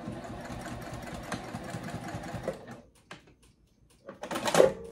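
A sewing machine stitching across the strap area of a Sallie Tomato circle bag, a steady mechanical whir for over two seconds, then a pause and a brief louder burst of motor noise near the end.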